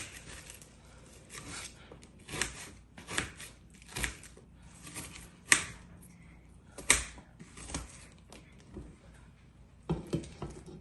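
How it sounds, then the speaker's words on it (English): Onions being cut into medium pieces by hand, a series of separate, irregular knife chops and taps at close range, fairly quiet, with pauses between strokes and no talk. "Just cut this onions, not really too small,"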